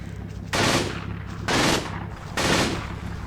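Machine gun fire in Combat Mission Final Blitzkrieg: three loud bursts roughly a second apart, each a dense rattling volley, with no voices.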